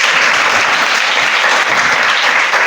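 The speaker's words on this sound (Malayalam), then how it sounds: "ഞാൻ ചോദിച്ചു വാങ്ങിയ കൈയടിയാണോ?" An audience claps at a school gathering, a dense, even wash of many hands applauding loudly and steadily throughout, with no voices over it.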